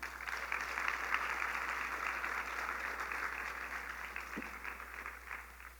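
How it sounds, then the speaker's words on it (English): Audience applause at a school ceremony at Richard Wright Public Charter School, a steady, moderately distant wash of clapping that holds evenly throughout and tapers slightly toward the end, with no voices over it. "Give yourselves a round of applause."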